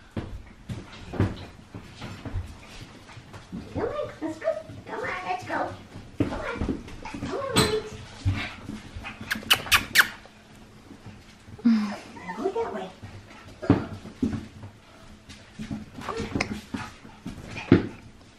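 Five-week-old puppies give off whimpers and short yips in scattered bursts, close by and moderately loud, with a person talking over them and some household knocks and thumps.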